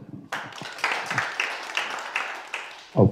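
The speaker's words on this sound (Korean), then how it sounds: "우리 박수로." Scattered audience clapping at a Korean panel discussion session, starting abruptly and continuing in uneven bursts of individual claps for a few seconds, with a brief louder thump near the end.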